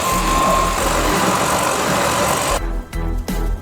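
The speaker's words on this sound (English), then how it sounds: "Now we can sand using our jigsaw." A jigsaw with sandpaper taped to its blade, used as a makeshift sander, gives off a steady, close buzzing drone that stutters and dips briefly a few times near the end.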